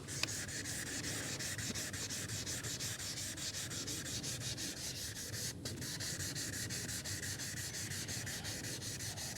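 Steady rhythmic colour sanding of the paint on a 1986 Chevrolet Monte Carlo SS with fine-grit sandpaper, quick back-and-forth strokes, close up and soft, continuing without pause.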